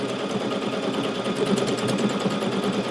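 A Solaris Vision sewing machine quilts a quilt sandwich, its motor running in a steady, loud, continuous whir with a fast, even stitching rhythm throughout, no voices heard.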